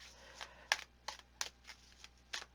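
Tarot cards being shuffled by hand, a quiet run of soft riffling snaps and flicks in irregular bursts, close and faint over a low steady hum.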